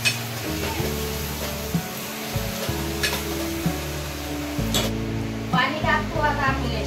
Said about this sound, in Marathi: आता आपण थोडं तेलात परतून घेऊ ही मटकी.